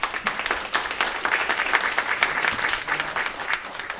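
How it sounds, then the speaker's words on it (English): A seated audience at a school business gathering claps steadily for a few seconds, a dense, even patter of many hands at moderate distance, with no talk over it. "Please come up and please give him a round of applause"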